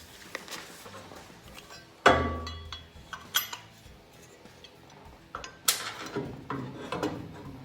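Metal clinks and knocks as nuts, bolts and lock washers go onto a Willys MB tire mount, with one sharp loud clank and scattered lighter taps and rattles nearby, no talk.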